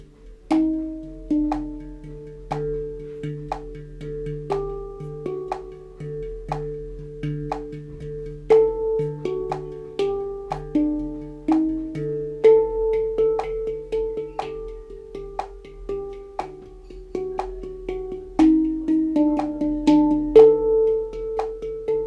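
Handpan notes struck in a steady, evenly subdivided rhythm, soft metallic tones ringing and overlapping as the pattern gradually builds in intensity.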